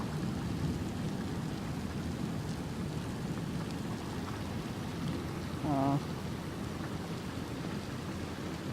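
Heavy monsoon rain pours down in a steady, dense hiss, with a brief tonal blip near the middle of the downpour and no talking.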